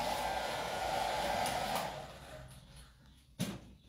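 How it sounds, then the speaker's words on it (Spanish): A hair dryer blows steadily at close range for about two seconds, then cuts off and its airflow fades, followed by a single sharp knock in the quiet. "Hoy vamos a trabajar secador, secador."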